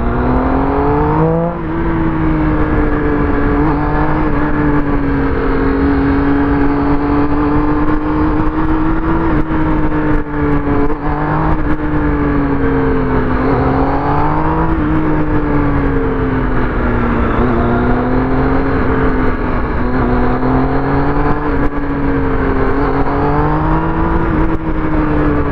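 A motorcycle engine runs and revs continuously up close, its pitch rising and falling in repeated swells with no voices over it.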